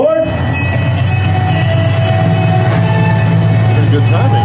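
The Old Tucson tourist train rolls along with a steady loud rumble and a string of regular rail clicks, a long tonal squeal rising near the end.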